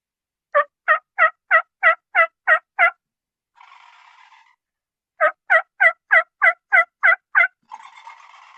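Wild turkey gobbling in two rapid runs of about eight loud, rattling notes, each followed by a softer, breathy trailing sound.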